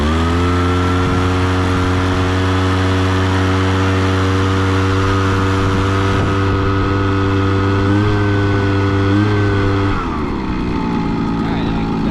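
A Proyama backpack fogger's small petrol engine runs at a steady, loud buzzing drone, then dips in pitch and changes tone near the end.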